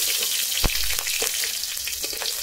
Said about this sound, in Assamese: আলুখিনি আগৰ পৰাই কাটি ধুই লৈছোঁ এইখিনি মই এতিয়া ভাজিম